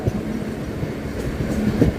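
A Mumbai suburban local train on the Harbour line, Goregaon–Panvel service, crossing a bridge, gives a steady close rumble of wheels and carriages that runs the whole time with faint rattles and no voices.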